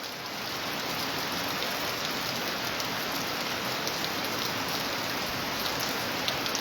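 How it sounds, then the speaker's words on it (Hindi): Heavy evening rain pours down steadily in Gool subdivision, a dense unbroken hiss of water on surfaces with scattered louder drops, no voices. "आज शाम के 7 बजे से काफ़ी तेज़ तरार बारिश है"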